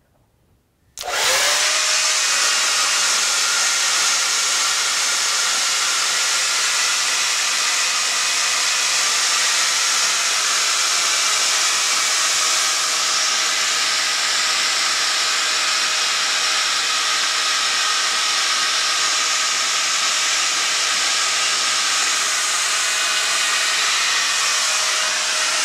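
A hair dryer switches on and blows steadily while a fringe is brushed dry, a loud continuous airy rush that holds for the whole stretch with no talking.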